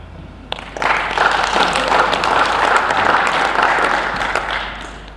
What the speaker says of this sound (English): If I were you, I would clap for them.